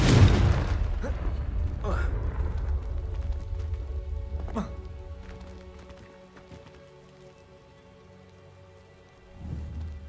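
A Confringo spell explodes in Hogwarts Legacy, a loud close burst at the start followed by a few smaller pops and crackles fading into a quiet hum, with another thump near the end.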